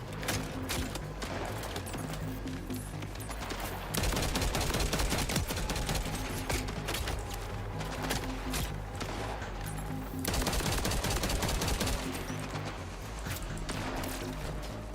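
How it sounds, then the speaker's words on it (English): Rapid bursts of automatic sniper rifle fire from Borderlands 4 ring out over a steady game music bed, with longer sustained volleys around four and ten seconds and continuous clattering shots throughout. "I'm starting to come around to the fully automatic sniper rifle."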